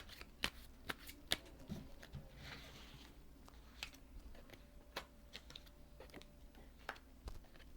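Tarot cards are shuffled by hand during a reading: a soft, steady riffling with sharp card snaps scattered throughout. It is fairly quiet and close, with no talking.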